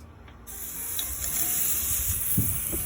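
Steady broadband hiss of a rib-eye steak searing on a preheated kettle grill, rising slightly and holding constant with a few faint pops near the end.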